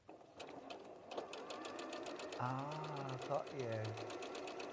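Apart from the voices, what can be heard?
sewing machine stitching over a line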